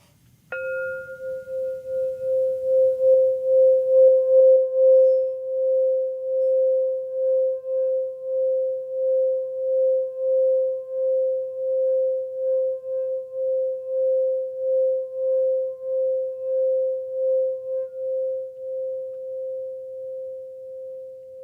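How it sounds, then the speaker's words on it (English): A singing bowl is struck once and then rubbed, ringing in a single pure, sustained tone that pulses gently in a slow wavering rhythm, loud and clear, alone without talk for the whole span. "So, singing bowl time."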